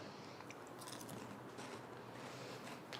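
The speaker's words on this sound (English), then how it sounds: "I'm going to eat this delicious chocolate" Crunchy chocolate being bitten and chewed close up, a steady granular crunching texture with scattered sharper cracks, no talking.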